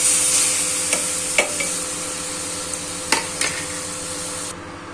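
Seeds and grated mango roasting in a pan for sweet-sour mango chutney, giving a steady close sizzle with a few sharp clinks of a spoon against the pan, no voices.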